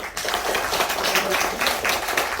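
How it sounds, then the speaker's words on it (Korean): An audience applauds a Gwangju consumer federation director at a panel forum on water quality and carbon reduction, with a brisk, continuous patter of clapping in a moderately sized hall, steady and fairly loud. "김연실 국장님께 큰 박수 부탁드립니다"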